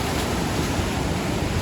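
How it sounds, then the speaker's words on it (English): High, flood-swollen water of the Vedder River after a rain storm, rushing past in a steady, loud, broadband roar, with no voices. "let's just have a look at this water rushing through here"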